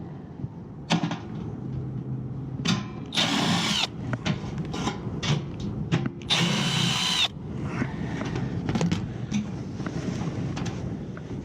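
A power drill backs screws out of a blower wheel housing in bursts of whirring, several short runs and two longer ones, close and loud, with rattling handling noise between them.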